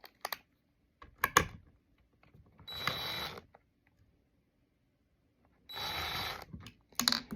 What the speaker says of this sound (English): you were able to unscrew the nut while keeping the inserts still in the hole